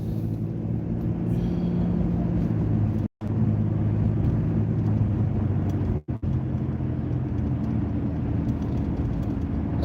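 A car in heavy traffic turns and then accelerates, its engine giving a steady loud rumble with road noise. Two brief dropouts break the sound.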